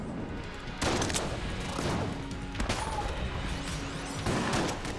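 Gunshots in the twin-stick shooter Enter the Gungeon, a few loud bursts of firing with crashing impacts over busy game noise and music.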